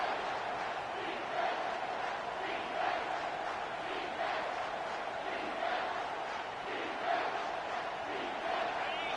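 A home stadium crowd at an American football game roars steadily on third down, a broad, distant sustained cheer with rhythmic swells and a faint announcer voice beneath.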